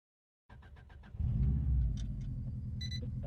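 A car engine starts after brief silence, with a few quick cranking pulses that catch into a loud, rumbling idle and a slight rev, holding steady close by.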